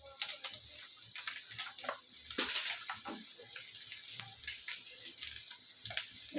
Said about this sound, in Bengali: মাংসগুলো নেড়ে নিচ্ছি।